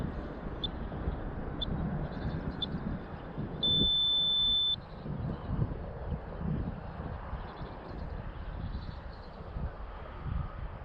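A timer alarm beeps in short, evenly spaced high bursts, one held a little longer, set against a rough outdoor background hiss.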